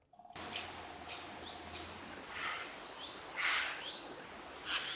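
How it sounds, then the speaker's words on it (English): Peaceful forest ambience from the medieval game Kingdom Come: Deliverance 2: scattered bird chirps and calls over a soft, steady outdoor bed, fairly quiet and alone, with a brief low hum at the very start. "if you're in forest, it can sound like this"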